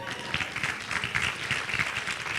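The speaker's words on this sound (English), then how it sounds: "we can clap for that." An audience claps steadily together in a crowded room, a continuous dense patter of hands that holds even and loud throughout, close and unbroken, with no voices rising above it.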